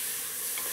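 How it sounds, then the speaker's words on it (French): Onions and lardons frying in a pot in a restaurant kitchen, a steady bright sizzle with a faint stir, heard briefly and alone. "Tu vas attaquer les oignons, tu les sues en même temps."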